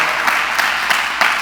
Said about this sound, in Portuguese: dá um aplauso aí